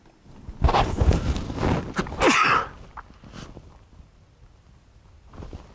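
A single loud, sharp sneeze close to the listener, preceded by shuffling movement and followed by quieter handling noises.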